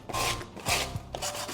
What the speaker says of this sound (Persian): با استفاده از یه سنباده میایم گوشه هاشو اینقدر سنباده میکشیم